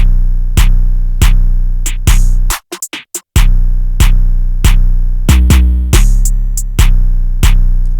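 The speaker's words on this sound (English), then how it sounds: "The 808s change up again." A hip-hop beat section with altered 808 bass plays loud and steady, sharp percussive hits landing in a regular rhythm over deep bass, with a brief stuttering dropout partway through.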